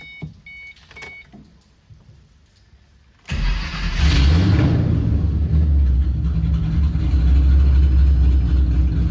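After a few quiet seconds of small clicks, an S197 Ford Mustang engine with hot rod cams cranks and catches, revs up once, then settles into a steady, loud idle.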